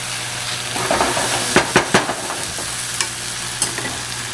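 Chicken stock poured into a hot pan for chicken cacciatore, a close steady sizzle with a few sharp clinks and scrapes of a utensil against the pan, no voices.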